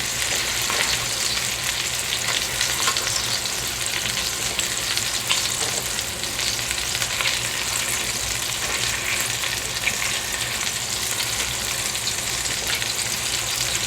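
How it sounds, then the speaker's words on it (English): Italian meatballs sizzle and fry in a crowded pan while being flipped, a dense, steady hiss of hot oil with faint scraping from turning, close and continuous without talking. "So here I am flipping them around. And sometimes they stick a little bit."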